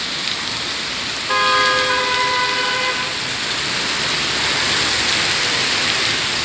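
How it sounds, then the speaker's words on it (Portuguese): Steady heavy rain and hail with wind roar in Maringá while a distant horn-like tone rings out for a couple of seconds early on, then fades back into the constant downpour. "Chuva de granizo."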